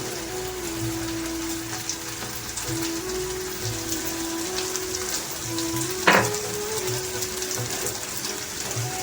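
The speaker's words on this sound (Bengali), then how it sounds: "ছোট চামচের 1 চামচ ধনের গুঁড়ো দিয়ে মশলাটি আমি ভালোভাবে কষিয়ে নেব।" Masala with coriander powder fries in hot oil in a pan, giving a steady close sizzle with occasional stirring scrapes and a brief clank, with no talk.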